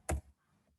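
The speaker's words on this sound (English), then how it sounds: "And I am typing the password" A single sharp keystroke sounds on a computer keyboard while a password is typed, close and clear, followed by a faint softer click in a quiet room.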